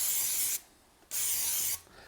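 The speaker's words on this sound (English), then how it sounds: "where's my brake cleaner? I'm going to clean this up a little bit better. Spray it off." Brake cleaner sprayed onto a 2009 Subaru Forester engine block during head gasket work: two close, loud hissing aerosol bursts of about half a second each, separated by a short pause.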